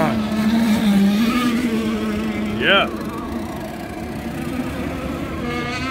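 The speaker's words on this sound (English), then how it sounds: "I hear boats running" Small engines of radio-controlled racing hydroplanes whine and buzz steadily, with one rising high-pitched engine sweep passing by, and a brief voice over the drone.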